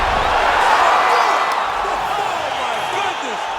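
Video game crowd roaring and cheering in a UFC 5 arena after a knockout ends the fight, a loud continuous wall of noise throughout with no distinct voices standing out.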